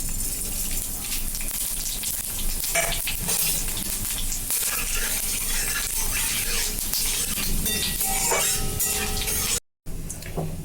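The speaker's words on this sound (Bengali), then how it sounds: "তেলটা গরম হয়ে গেছে, এতে আমি দিচ্ছি একটা তেজপাতা, একটা শুকনো লঙ্কা, অল্প পাঁচ ফোড়ন" A bay leaf, a dried chili and panch phoron sizzling in hot oil, a continuous close crackling hiss with scattered pops and a short clatter near the end.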